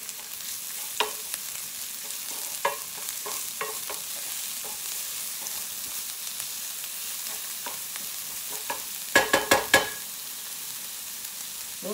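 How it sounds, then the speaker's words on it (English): Onions sauté in a pan with a soft, continuous sizzle, broken by scattered stirring clicks and a quick cluster of sharper scrapes near the end. "We're going to saute the onions now."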